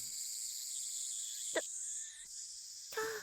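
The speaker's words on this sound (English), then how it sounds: "The only sound is the chirping of cicadas." Cicadas chirp in the Steins;Gate visual novel, a continuous high shrill drone filling the scene, broken by a couple of brief soft knocks and a short tonal sound near the end.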